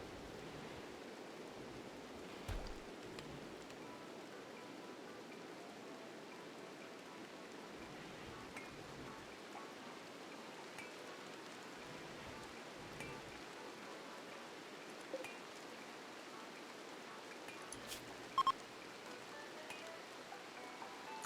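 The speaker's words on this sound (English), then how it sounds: "Yeah, it's raining." Steady, soft hiss of rainfall in the video game RimWorld, even and continuous for the whole stretch, with a few faint ticks and pops and no voices.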